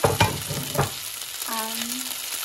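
Diced liver fries in a pan of Cameroonian fried rice with scotch bonnet pepper, a close sizzle with a couple of sharp stirring clanks early on and a brief tonal squeak near the end.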